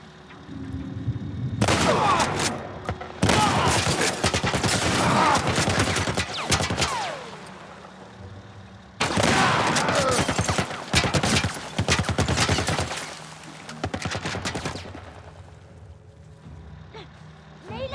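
Enemy soldiers firing in The Last of Us Part I: two long, loud volleys of rapid gunshots, each lasting several seconds, split by a short lull and trailing into quieter ambience.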